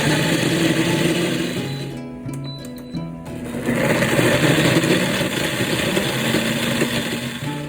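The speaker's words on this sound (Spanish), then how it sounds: "así es como vamos a ir haciendo nuestra masa en la licuadora con el maíz que preparamos" A blender whirs loudly and continuously grinding prepared corn into masa dough, its motor grinding steadily with a short dip in pitch partway through before resuming full power.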